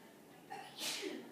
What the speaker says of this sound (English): Yeah, she sneezed.